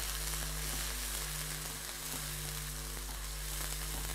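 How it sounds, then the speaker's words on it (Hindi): Garlic ginger paste fries in hot oil in a pan, giving a steady, loud, close sizzle that runs without a break, with faint stirring and no talk. "लहसुन अदरक पेस्ट और थोड़ा सा इसको सिर्फ 10 सेकंड तक आपने फ्राई करना है"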